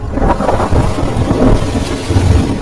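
Steady heavy rain pours down while low thunder rumbles continuously beneath it, loud and close, with no voices.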